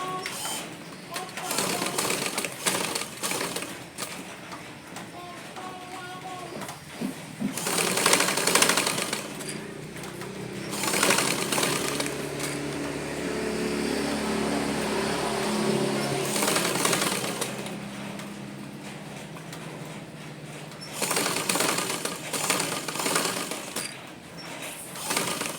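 A sewing machine stitches along the edge of a shirt collar in loud bursts of steady mechanical whirring separated by pauses, with background clatter throughout.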